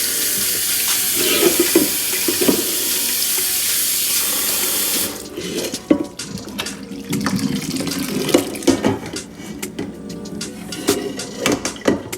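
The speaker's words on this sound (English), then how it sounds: "Now we're going to strain this and run it over some cold water to stop the process of cooking." Cold water gushes from a kitchen tap over strained chow mein noodles in a colander, a steady splashing stream that shifts partway through into uneven sloshing and clattering as the noodles are rinsed.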